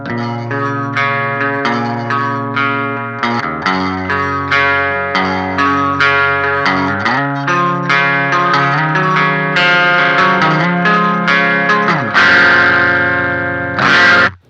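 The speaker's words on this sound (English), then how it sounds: "In the middle position on the voice toggle, we have the classic treble boost sound." Electric guitar played through an Electrojunk Pedals BOOst pedal on its classic treble boost voice, with little low end and a bright, treble-heavy tone. Sustained, loud chords ring out steadily and are restruck several times, with no talking.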